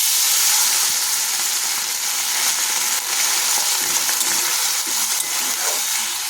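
Moringa (drumstick) leaves sizzle and fry loudly and steadily in a pan as a little water goes in, a dense continuous crackle with small clinks and stirring scrapes throughout and no voices.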